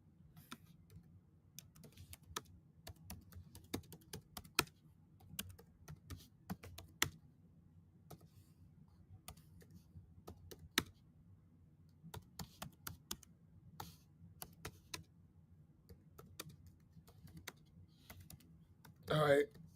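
Computer keyboard typing in a quiet room, a steady run of light, irregular key clicks with short pauses, under a low background hum, with a brief louder burst at the very end.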